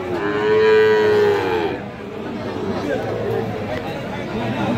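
Sahiwal bull calves at a busy cattle market let out a loud, drawn-out moo near the start, followed by softer lowing amid a background murmur of crowd chatter and voices.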